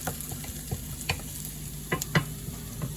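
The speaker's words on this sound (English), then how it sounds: "now I've got the pork chops on the grill" Pork chops sizzle steadily on a grill, a constant frying hiss with scattered small pops and crackles, close and unbroken by talk.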